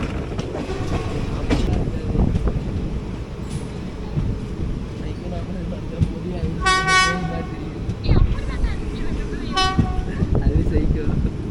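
The 16721 Coimbatore Madurai Express rumbles along the rails on the Pothanur–Pollachi–Dindigul line, with constant wheel noise heard from inside, a couple of loud horn toots, and a voice talking over it.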